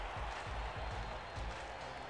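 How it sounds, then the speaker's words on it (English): Stadium crowd at a football game roars in a steady, dense wash of cheering with no clear breaks, as fans rise ahead of a third-down play in Dallas. "Crowd on their feet."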